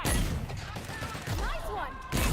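Rapid bursts of gunfire in the video game The Outer Worlds crackle in quick succession, mixed with whooshing effects and game voices speaking over the shooting.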